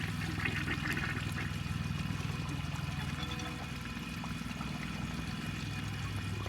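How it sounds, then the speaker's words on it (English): Briggs toilet with a blocked jet flushing, a loud steady rush of pouring, swirling water that runs continuously and close up with no talking. "It still has an epic flush, even without the plug siphon yet."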